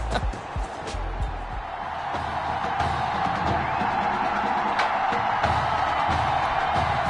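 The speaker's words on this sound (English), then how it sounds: "the crowd is loud and on its feet as Ricky Sutherland gets things started." Stadium crowd in the football game Madden 21, a broad, steady roar of cheering that swells and holds, with a few sharp thumps and voices talking over it.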